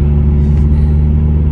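A supercharged Honda Civic FN2 engine hums steadily with a strong, loud low drone, a short continuous run without noticeable speech.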